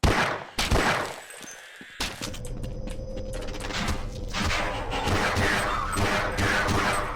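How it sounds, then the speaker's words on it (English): Rapid gunfire in Half-Life, with a player shooting at headcrabs: dense bursts of shots and mechanical clatter fill most of the clip at steady loudness after a brief quieter opening. "He is shooting it at head crabs"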